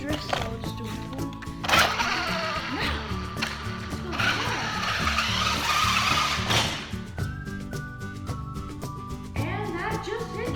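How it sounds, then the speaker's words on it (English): A small radio-controlled car drifts: its electric motor whines in rising and falling pitches while the tires scrub and skid in a long, loud rasping slide at the middle, then the motor revs on alone. "I don't think you saw any of the drifts, so I'll just do one."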